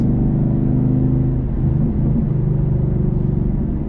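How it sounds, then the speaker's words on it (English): A 2012 Ford Mustang Boss 302's quad side exhaust gives a deep, steady engine rumble at idle, loud and close, with a throbbing low exhaust burble and no voices. "It's hard to beat the Boss 302 side exhaust"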